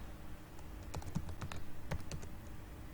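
Quick bursts of keystrokes clatter on a computer keyboard while PHP string code is typed, irregular clicks clustered in short runs, close and moderately quiet with no talking.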